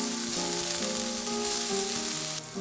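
Chopped green onion and carrot sizzle steadily in hot cooking oil in a pan, a dense, continuous frying hiss with faint stirring, close and alone.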